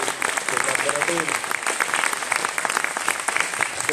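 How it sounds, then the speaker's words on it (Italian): An audience at an Italian community festival event applauds the organizer and collaborators, a dense steady clapping that holds loud for several seconds while a voice speaks over it. "invito tutti a fare un applauso a Mirko e a tutti i collaboratori"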